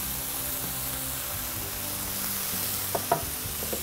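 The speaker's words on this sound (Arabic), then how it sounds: "المشروم اخد التشويحة اللي انا عايزاها، هنزل الفلفل الاخضر" Mushrooms and green pepper sauté in a hot pan for a chicken casserole, giving a steady close sizzle and frying hiss throughout, with a few light stirring clinks near the end and no talking.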